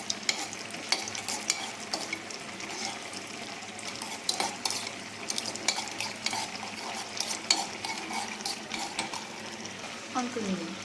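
Cashews and almonds fry in ghee until golden, with a steady bubbling sizzle and repeated scraping stirs and clinks of a spoon against the pan throughout.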